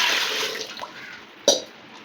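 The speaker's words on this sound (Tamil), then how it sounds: "அதுக்கு தேவையான தண்ணி ஊற்றிக்கணும்" Water splashes and pours steadily into a pot holding seven eggs for a moment, followed by a brief sharp clatter near the end; close and fairly quiet.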